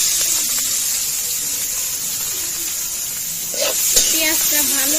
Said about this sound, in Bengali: পেঁয়াজটা তো ভালো করে ভাজা হয়ে গেছে